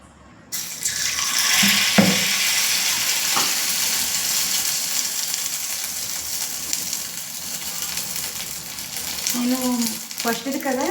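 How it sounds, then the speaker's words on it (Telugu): Bun dosa batter frying in hot oil: a loud, steady close sizzle starts abruptly and holds throughout, with a few utensil clinks and scrapes near the end. "ఫ్రై చేస్తున్నాను"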